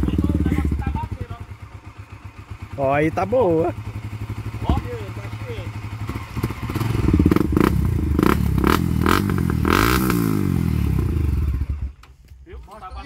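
A motorcycle engine runs and revs up under repair, with a lower idle rising into louder, rougher revving before cutting off near the end, while people talk over it.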